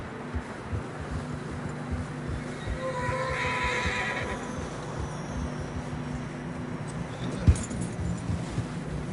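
A horse neighs in a drawn-out whinny in Red Dead Redemption 2, over a steady background rumble on a snowy trail, with a sharp knock near the end.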